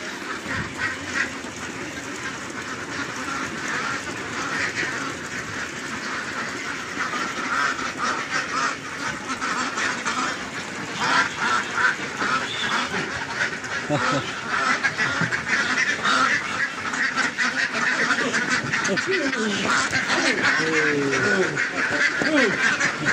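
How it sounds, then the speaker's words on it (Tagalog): Flock of ducks being driven along by herders, a continuous chorus of quacking that builds louder toward the end, with people talking over it. "At muling itataboy yung mga itik."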